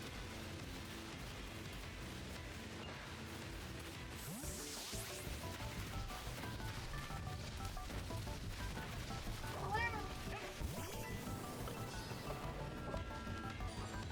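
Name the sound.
cat meowing in a low voice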